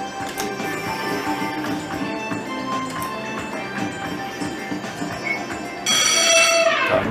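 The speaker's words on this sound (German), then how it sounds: "Da klingelt er schon mal." Bright bell-like chimes and electronic jingles ring from an online slot machine, a casino video game, steady throughout and swelling into a louder, shimmering win flourish near the end.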